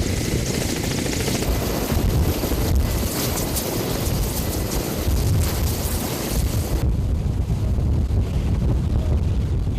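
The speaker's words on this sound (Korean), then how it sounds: "헬기가 만들어내는 엄청난 규모의 바람 하강풍" Heavy helicopter downwash roars across a rugged mountain trail site at 1,230 m, blasting wind and dust in a continuous loud buffeting rush with low rotor rumble, slightly easing near the end, no voices.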